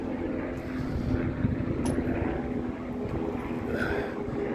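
A steady, low rotor drone rumbles throughout, a helicopter overhead near Shaftesbury, England, with constant loudness and a faint wind-like wash on top.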